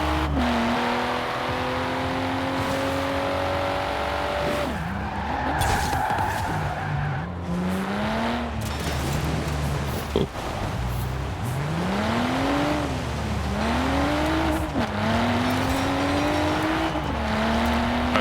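Engine drone of a car driven in GTA IV with repeated rising revs through gear changes and occasional tire squeal, loud and continuous with no talk.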